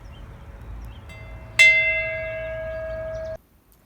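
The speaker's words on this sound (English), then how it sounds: "today, Dad, we ring this bell for you." A single memorial bell struck once at a Memorial Day ceremony, a sharp clang that rings out with a steady sustained tone for about two seconds before being abruptly cut off.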